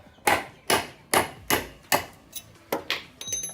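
Sharp hammer blows driving steel dowel pins out of an old clutch from a Toyota Supra, about eight evenly spaced metallic strikes close by, with a few softer taps near the end.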